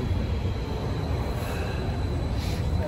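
A train passes through Charlottenplatz underground station in Stuttgart, heard as a steady, broad rumble and rushing roar that fills the whole moment without pause.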